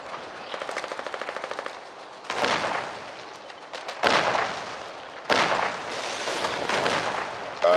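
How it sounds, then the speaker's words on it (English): Light and medium tanks firing on a Colonial minefield in an online war game: a rapid rattle of shots, then three heavy booming blasts with rumbling decay, loud and close. "I believe those tanks are firing upon a Colonial minefield."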